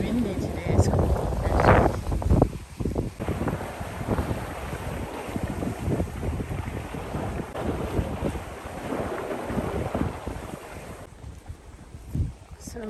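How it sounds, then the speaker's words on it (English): Heavy wind buffeting a microphone in rumbling gusts at a lakeside park in Texas, with water lapping nearby and occasional voices under the roar. "Really windy today, it's cold."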